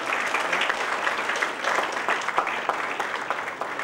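Audience applause at a live-streamed BICON 2015 event, a steady, dense clapping from a large crowd that continues unbroken, fairly close and loud throughout.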